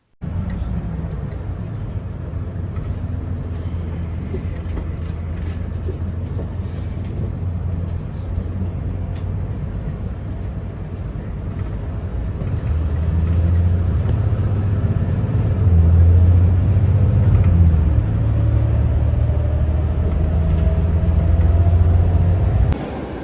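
Riding inside a moving city bus, a continuous low engine rumble and road drone that holds steady and grows somewhat louder and heavier partway through, with no talk.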